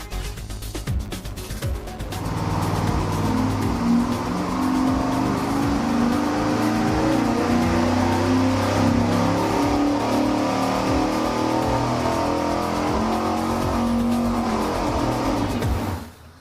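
A V8-style test engine fitted with long-tube headers and a small camshaft roars on a dyno, holding a loud, sustained, rumbling pull for around fourteen seconds before shutting off.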